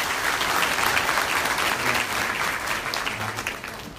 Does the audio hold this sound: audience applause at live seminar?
yes